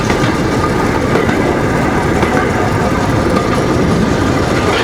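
A narrow-gauge passenger train on the Alapaevsk railway rumbles loudly and steadily along the track, with continuous rattling and clatter from the cars and no pauses.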